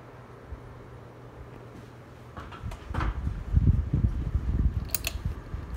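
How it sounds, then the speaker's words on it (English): A Northman Spinner ceiling fan switched on at high speed, a low whooshing rumble building up over a few seconds with light rattling and ticking mixed in, steady once it gets going. "So we're gonna fire a Northman fan up on high first."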